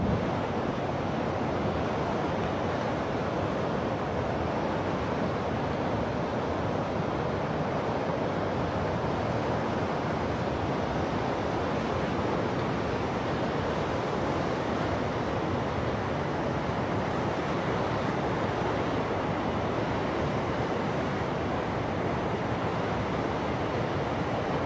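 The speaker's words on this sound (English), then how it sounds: "Already pretty good white water, beautiful rapids" Steady, broadband roar of white-water rapids on the Shuk River, continuous and unbroken for the whole stretch, with wind buffeting the microphone and no voices.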